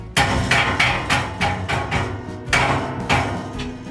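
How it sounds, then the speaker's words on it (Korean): Repeated sharp knocks of a rubber mallet striking parts of a metal bunk bed frame during assembly, about eight blows in a steady rhythm, close and fairly loud, with no talking. "고무망치로 이렇게 쳐줘야 돼요"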